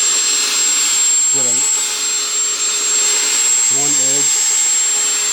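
Drill fitted with a sanding pad working on a 2005 Toyota Prius headlight, giving a steady high whirring whine throughout, while someone speaks briefly over it.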